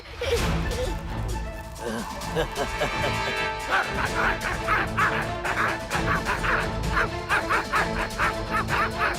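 Several voices imitate dogs, barking and yipping in quick overlapping bursts, loud and close.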